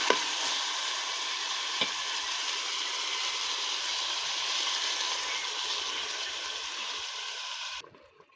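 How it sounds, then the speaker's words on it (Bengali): Bottle gourd and meat stir-fried in a pan give a steady, close, hissing sizzle with faint scraping, holding even for about eight seconds before cutting off abruptly. "এর ভিতর দিয়ে দেবো লাউ। ভালোভাবে কষাইয়া এবার জল দিয়ে দেবো।"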